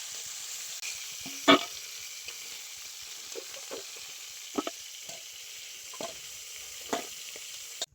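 Crabs fry in hot oil in a pan, a soft continuous sizzle with occasional scraping and clinking as they are stirred, a louder knock early on.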